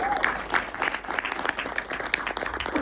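An audience applauds at a trailer launch for a Marathi film, a short burst of scattered hand claps from a small indoor crowd, moderately close.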